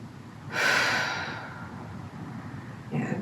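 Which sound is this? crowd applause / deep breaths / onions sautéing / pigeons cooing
deep breaths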